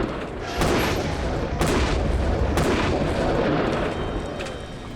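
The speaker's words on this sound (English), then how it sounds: "the car gets blown sky high" A car blown apart by stunt explosives during a staged movie-style blast, heard as several heavy booming detonations in quick succession, loud and roaring, with rumbling aftermath and no talk.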